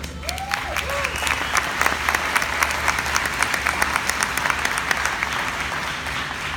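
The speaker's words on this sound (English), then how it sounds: "So, one more round of applause for Justin." Audience applause at a doTERRA corporate event, a steady dense wash of clapping from a large crowd that holds throughout, loud and continuous with no talk over it.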